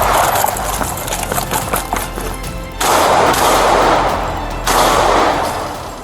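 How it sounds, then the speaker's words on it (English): Gunshots during a police chase after an armed robbery: harsh bursts of rapid gunfire, loud and close, in two or three surges separated by brief quieter gaps. "he turned back, raised the weapon, and fired. One officer returned fire, striking the suspect."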